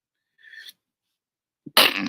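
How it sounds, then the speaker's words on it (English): A single sharp sneeze bursts out near the microphone, preceded by a faint breathy intake, then a short noisy exhale trails off. "I'm about to sneeze"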